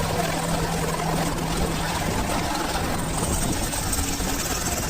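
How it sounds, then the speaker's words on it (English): A helicopter lands with precision on a small platform at the opening of the DP World Tour Golf Championship in Dubai, its steady engine and rotor roar filling the scene loudly and evenly with no talk. "This helicopter landing on a small platform with precision."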